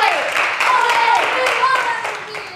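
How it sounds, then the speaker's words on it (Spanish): Students in a secondary school classroom clap together in a burst of applause lasting a couple of seconds, dense and steady before it tapers off slightly. "Aplauso."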